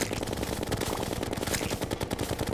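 Rapid gunfire from the video game Terraria crackles in a dense, fast burst of shots, loud and continuous.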